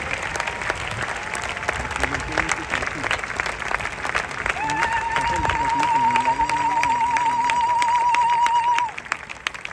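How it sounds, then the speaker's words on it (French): A congregation at a funeral service for Maman Blanche claps steadily and loudly, while a voice speaks and then holds a long sustained tone over the applause before the clapping fades. "Acclame très fort pour le Seigneur."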